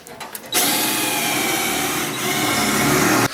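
After a brief quiet moment, a power drill spins up and drills into metal near a car's frame rail, a steady, loud, high-pitched whine that holds for about three seconds.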